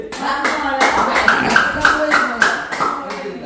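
A small group clapping for the winner of a game at an outdoor gathering in Jaffna, several sharp rhythmic claps close by, with talk and a voice calling out over them.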